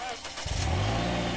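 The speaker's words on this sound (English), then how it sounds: "Have the engine running between 1500 to 2000 RPM." A car engine held steady at about 1500 to 2000 RPM during a charging-system voltage drop test, giving a continuous close, loud hum with a rising tone that settles into a steady drone, alongside some talk.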